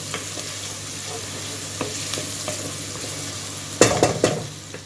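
Minced meat and onions fry in a pan, giving off a steady close sizzle while being stirred, with a cluster of louder scrapes and clinks from the utensil against the pan near the end.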